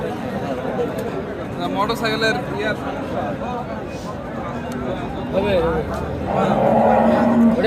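Dairy cows mooing amid a crowded cattle market, low calls rising over constant chatter and nearby voices.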